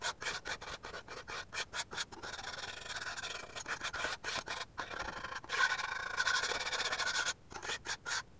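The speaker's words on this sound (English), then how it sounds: "the best way to get them off is to use a scraper and just gently go over the top" A scraper rasps over thick blobs of dried paint on a surface in a series of short, rough scraping strokes separated by brief pauses, close and fairly quiet.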